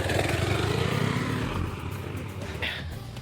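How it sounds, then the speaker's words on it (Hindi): A KTM Adventure motorcycle engine revs as the bike climbs an off-road slope and turns sharply, loud and close at first then easing slightly, with a brief higher whine near the end. "यहाँ से बाइक चढ़ी और ये नीचे यहाँ से शार्प टर्न।"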